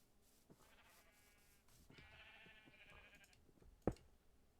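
Sheep in a Minecraft-style block-building game bleat twice in quick succession, each a wavering, nasal call of about a second, quiet and clear over faint background, ending with a soft thud.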